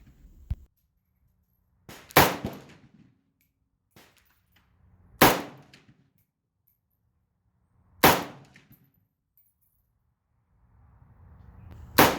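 Metallic clacks from a Romanian MD 63 rifle as the magazine is pulled and the bolt carrier slams closed, four sharp isolated hits spaced a few seconds apart with quiet gaps between, no talking.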